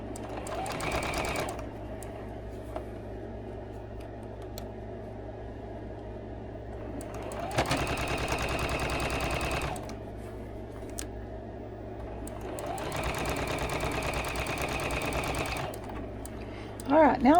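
A sewing machine stitches over the hanger loop of a Christmas stocking in three separate bursts of rapid, whirring mechanical chatter, with quieter stretches between them and a person talking softly underneath.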